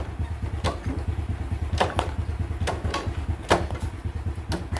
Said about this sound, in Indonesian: hari ini kita akan mencoba mengakali atau mengatasi engkolan kit starter yang ngelos ya